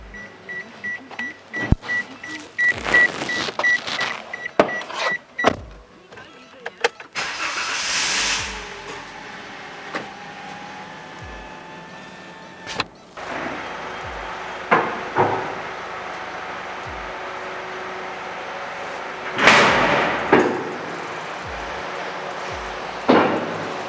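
A car lift in a workshop lowers a car with hissing air releases and mechanical clunks, interrupted by a few beeps, and ends with loud bursts of escaping air, close and prominent.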